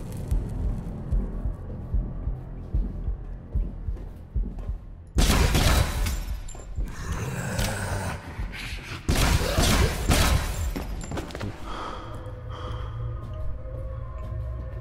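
Gunfire in the video game Syndrome during a boss fight: two loud sudden bursts of shots and crashes break a quieter rumbling stretch, each fading over a few seconds.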